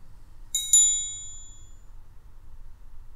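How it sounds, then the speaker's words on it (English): A doorbell rings with a bright two-note ding-dong, two quick chime strikes whose tones ring out and fade over about a second, alone over a faint low hum. "do I even have a doorbell?"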